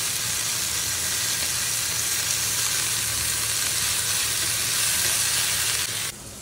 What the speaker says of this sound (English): You have to make sure that the pan and the oil is sizzling hot